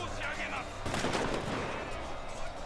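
Matchlock gunfire in the Shogun 2 battle game: dense, overlapping volleys crackle continuously, a heavy burst swelling just under a second in, sustained loud and mid-distance with no talk over it.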